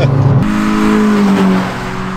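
A prepared Peugeot 206 RC race car accelerates on a track, its engine note droning and climbing steadily, loud and close, with a rough low rumble throughout.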